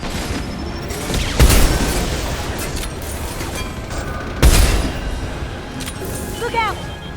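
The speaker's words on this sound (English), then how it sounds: "Firing a high-impact shot!" High-impact gunfire in Mass Effect 2 combat, two heavy booming shots a few seconds apart over a dense, noisy battle bed with scattered mechanical clatter.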